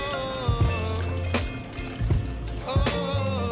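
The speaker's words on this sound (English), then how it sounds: "next I'm going to add some water" Water poured into a blender jar holding fruit such as watermelon for fresh juice, giving a loose run of splashes and drips with several brief bursts over a steady background.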